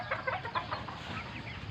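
Hybrid chickens cluck softly in a short stretch of clucking, a little distant and low in level, with no talk.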